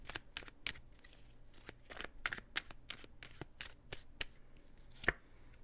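Tarot cards being shuffled in a quiet room: soft, irregular riffles and snaps scattered over several seconds, with one sharper slap near the end and no talking.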